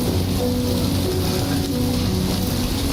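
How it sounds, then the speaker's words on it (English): Timefall rain in Death Stranding 2 falls steadily and fairly loudly throughout, a continuous dense patter with a low rumbling undertone and no voices. "does this mean the rain's not timefall?"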